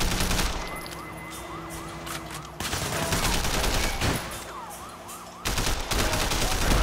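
Bursts of gunshots in Sleeping Dogs, loud clattering volleys that start and stop in several blocks, mixed with a wailing police siren in the background.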